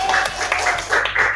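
Brief classroom applause during a teacher-training lesson on Hajj rituals, a cluster of hand claps swelling in short bursts over a room murmur, moderately loud and close.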